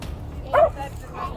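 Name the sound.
old dog barking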